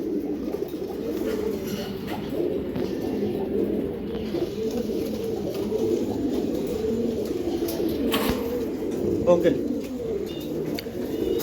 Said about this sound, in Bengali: এই আর এক পেয়ার কবুতর